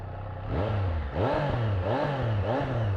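A 2024 Triumph Street Triple RS motorcycle engine revs up and down repeatedly, close and loud, with the pitch rising and falling in several quick blips over a steady idle.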